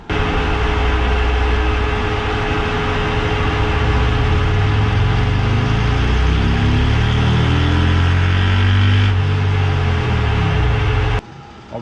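Harley-Davidson Road Glide with a Stage 2 engine on a dyno, making a loud wide-open pull: the V-twin rumble climbs steadily in pitch for about ten seconds and then cuts off abruptly.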